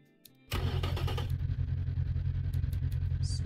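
A Busso V6 car engine fires up after a brief silence and catches at once, settling into a loud, steady, deep idle heard close up with no talking.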